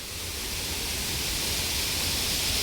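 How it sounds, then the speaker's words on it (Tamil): A large waterfall at Salango Temple Park in Malaysia roars as a constant, loud wash of falling water, close and unbroken. "எவ்வளோ பெரிய அருவி"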